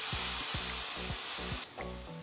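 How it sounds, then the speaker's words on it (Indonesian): Seasoning paste sautéing in a little cooking oil for seblak, a steady close sizzle with bright hiss throughout, easing slightly near the end, with no talking. "Jadi ini kita tumis sampai dia wangi ya, sampai harum."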